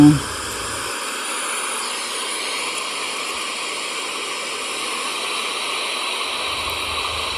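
The Tad Yueang waterfall in southern Laos gives a steady, broad rushing roar that fills the whole stretch without a break.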